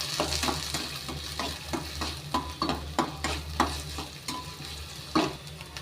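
Green chillies and curry leaves sauté with onion in a pan, a continuous sizzle under a low steady hum, punctuated by regular scraping stirs of a utensil against the metal.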